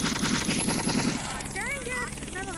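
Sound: helicopter arriving in a video game

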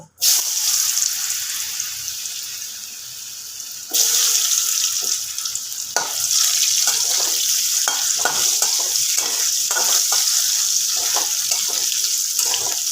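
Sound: potatoes frying in oil

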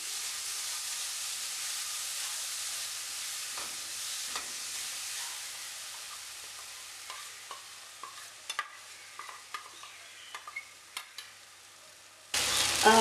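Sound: chili paste frying for Kerala sardine curry

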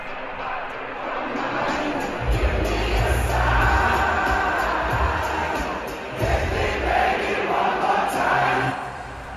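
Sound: massive crowd at a concert in London

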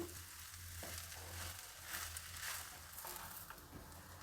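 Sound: tomato avalakki (flattened rice) frying in a pan

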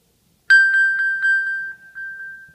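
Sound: iPhone ringing, triggered via HomeKit and Z-Wave

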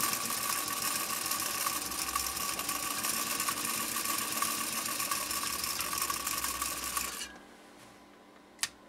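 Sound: 1935 Singer 95-60 industrial sewing machine sewing

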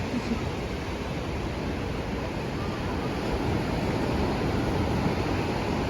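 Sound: sea waves breaking on the shore

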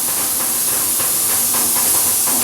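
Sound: pressure cooker whistle

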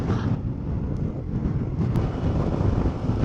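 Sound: strong wind

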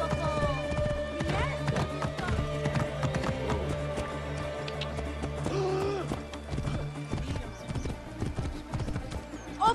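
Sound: horse hooves clip-clopping, from a video game

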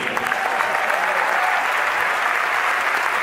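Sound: audience applause at Buenos Aires concert

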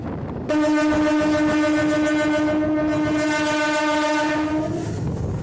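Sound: WAG-12 12,000 hp electric locomotive passing with goods train

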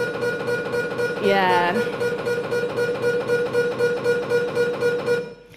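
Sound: voice imitating the loud noise of an MRI scanner

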